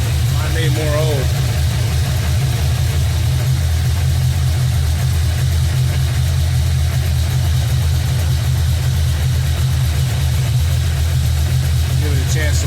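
A car engine fitted with an AVS2 carburetor idles steadily and loudly up close, its low rumble constant throughout, with faint voices under it.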